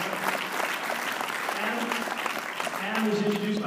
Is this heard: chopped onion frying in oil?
no